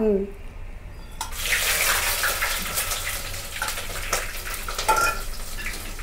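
Chili and onions sizzle and spatter in very hot oil, a dense, loud, steady hiss that starts abruptly after a moment of quiet and keeps going with crackling pops.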